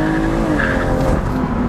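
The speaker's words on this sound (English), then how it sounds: "That's how you launch an M240." A BMW M240i launching hard under launch control in Sport Plus with traction off, its engine roaring loud and steady close by for under two seconds, with a hint of tire squeal.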